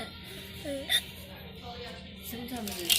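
Someone hiccups twice, once early and once right at the end, each a brief sharp catch of breath standing out over low murmuring voices nearby.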